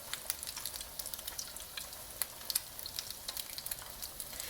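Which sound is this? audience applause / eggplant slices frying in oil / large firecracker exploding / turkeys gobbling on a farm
eggplant slices frying in oil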